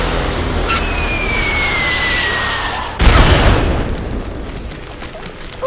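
In the video game Worms W.M.D., a whistling bomb falls and detonates in a loud, abrupt boom that rumbles and decays over the next few seconds.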